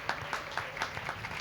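An audience applauds at the Sri Narasimhavatar drama performance in Chennai, its quick steady clapping heard at moderate distance and fairly soft.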